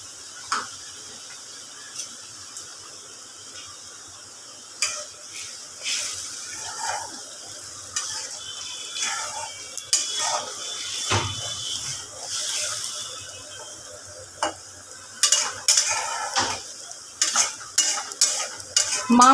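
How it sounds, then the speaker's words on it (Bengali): Chopped tomato and black cumin seeds fry in a pan while a spoon stirs them. A quiet sizzle runs under intermittent scraping strokes, and the stirring grows busier and louder toward the end. "এটা হচ্ছে টমেটো দিলাম, এবার আমি এটার মধ্যে আর একটু কালো জিরে দিলাম"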